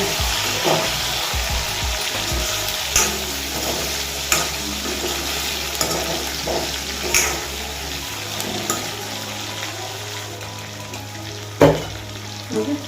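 Chicken legs fry in a pan with a steady close sizzle, broken by sharp scraping clicks from stirring and a low hum underneath, with no talking.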